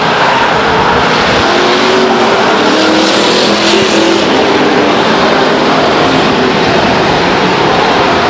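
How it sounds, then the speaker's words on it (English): A field of race cars at Stockton 99 Speedway roars around the oval in a loud, dense, continuous engine drone, several cars blending together as they pass near. "The entire field seeming to be motoring around the 30 car of Jennifer Alterman at this time."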